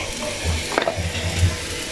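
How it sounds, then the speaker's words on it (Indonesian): Chili, onion and garlic fry in a hot pan for a spicy Malaysian ayam penyet sambal, a close, continuous sizzle with brief stirring scrapes and no talking. "panaskan api dan kita akan goreng cili, bawang dan bawang putih"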